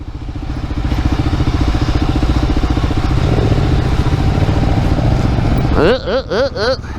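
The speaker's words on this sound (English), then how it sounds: "riding 460-pound bikes through woods like this" Heavy 460-pound adventure motorcycles, a Yamaha T7 and a Kawasaki KLR 650, ride through woods. A close, loud engine thrums steadily and rises for a moment, then near the end a voice breaks in with short exclamations.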